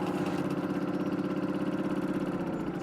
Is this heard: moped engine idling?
yes